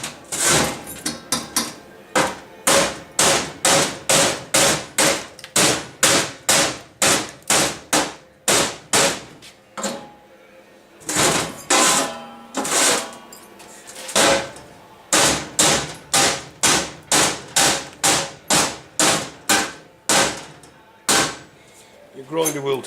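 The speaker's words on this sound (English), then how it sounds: "When you're using a plasma cutter, you get what we call slag." An old bricklayer's hammer knocks slag off plasma-cut metal in loud, close metallic strikes. They come in fast, regular bursts with short pauses between runs, and someone speaks briefly in the pauses.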